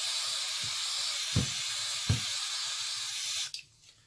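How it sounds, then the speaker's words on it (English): A continuous loud aerosol spray of brake cleaner into RC car drive shafts hisses for several seconds with a few dull knocks underneath, then cuts off abruptly. "Then I'm going to use a brake cleaner"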